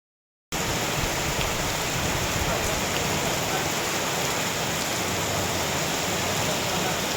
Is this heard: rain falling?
yes